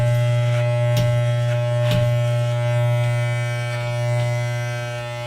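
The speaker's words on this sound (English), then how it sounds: "you're rocking that clipper out in order to fade it" Electric hair clippers drone steadily while fading hair during a home haircut, a loud close buzz with a few brief clicks as the blade rocks through the hair.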